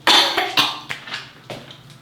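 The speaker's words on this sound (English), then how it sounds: "I can't even like talk because I start coughing" A string of short, harsh coughs from a nearby person, several bursts in quick succession that fade to smaller hacks.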